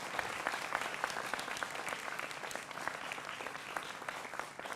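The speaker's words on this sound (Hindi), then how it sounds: "जोरदार तालियां अनवर पाशा के लिए भी।" Loud, sustained applause from a television studio audience during a Hindi political debate show, dense continuous clapping filling the whole stretch without talk over it.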